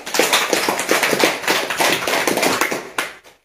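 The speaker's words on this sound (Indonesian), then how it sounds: "Tepuk tangan." Dense applause from a lecture audience, many hands clapping steadily for about three seconds before tapering off quickly.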